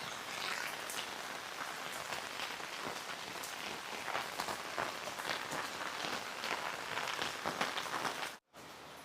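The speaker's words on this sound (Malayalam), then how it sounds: "പുറത്ത് നല്ല മഴയാണ്." Heavy rain falls outside a house, a soft, even hiss of drops on surfaces with scattered patters, steady and fairly quiet throughout before cutting off abruptly near the end.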